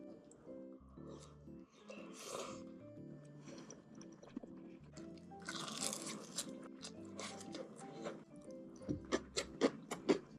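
Meat being chewed during a Korean mukbang meal, with close wet crunches and bites coming in bursts, some sharp clicks near the end, over soft music.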